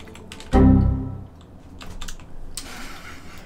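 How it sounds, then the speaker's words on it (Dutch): Quick, clattering keystrokes on an old-fashioned computer keyboard during a word game, starting with a heavy thump and followed by a loose run of taps, fairly close. "kan echt niet typen, hè. En dit op zo'n ouderwets toetsenbord."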